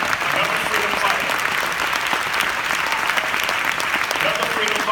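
Sustained applause from a seated audience, thick and uniform clapping at steady loudness with a few faint voices mixed in.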